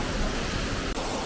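A waterfall rushes close by, a loud, steady broadband roar of falling water that fills the whole stretch without a break, with no talk heard.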